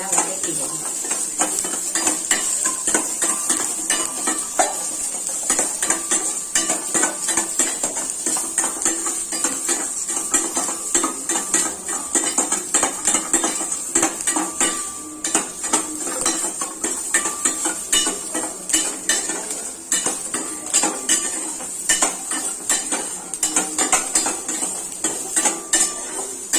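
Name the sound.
small onions being sautéed in oil in a pan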